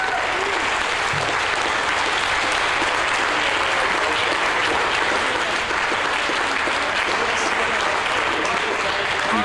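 Mission Control erupts in sustained, dense applause and cheering during the James Webb Space Telescope's separation from its launch vehicle, a steady roar of clapping filling the whole stretch.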